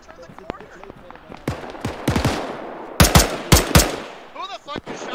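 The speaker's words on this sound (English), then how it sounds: "My warning shots to those guys first." Gunfire in the Arma 3 video game: sharp single shots and quick bursts of automatic fire, loud and close, cracking irregularly over several seconds with brief gaps between volleys.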